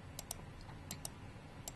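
Faint computer clicks sound in a few small clusters of short, sharp taps, spaced irregularly over a soft, steady background hum, with no voices.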